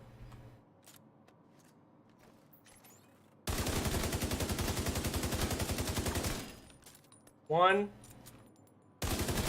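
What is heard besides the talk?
gunfire in the video game The Division 2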